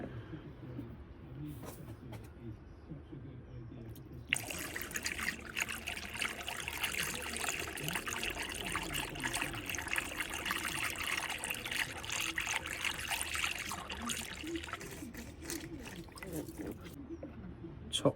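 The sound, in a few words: concentrated antifreeze poured through a funnel into coolant bottle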